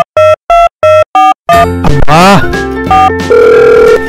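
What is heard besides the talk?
telephone ringing unanswered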